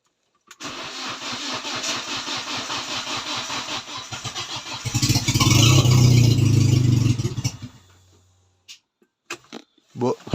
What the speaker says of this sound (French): c'était même pas prévu qu'elle démarre, mais bon. Elle a démarré.